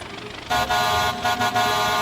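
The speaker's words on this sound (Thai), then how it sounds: "แล้วก็มีแตรลมฮะ" An air horn sounds on a tracked tractor in the Farming Simulator 22 game, a loud steady blast that starts abruptly and holds with a few brief breaks.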